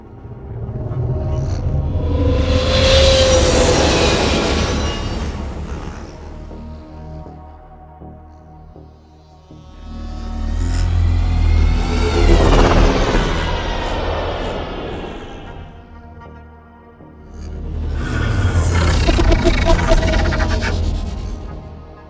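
Three swelling pass-bys of sci-fi dropships in Borderlands 3, built from jet engine recordings and synth swells, each roaring in and fading out with a whooshing, rumbling sweep.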